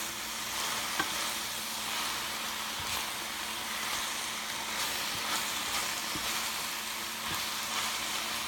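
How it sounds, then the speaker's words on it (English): Spinach wilts in a hot pan while being stirred for pasta with mushrooms, a steady close sizzle and frying hiss running throughout with occasional soft stirring knocks. "I'm just wilting the spinach"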